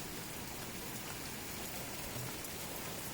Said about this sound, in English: So it rains in our house as well as outside our house.